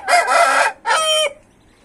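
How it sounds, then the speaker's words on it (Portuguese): A large rooster crows twice, loud and close, the first call long and the second shorter, with no other sound around it. "E peguei esse galo aqui."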